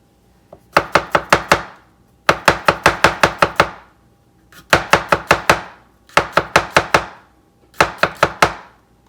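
Garlic chopped with a knife on a board: quick bursts of five or six sharp, close knocks, each run separated by a short pause, loud and alone.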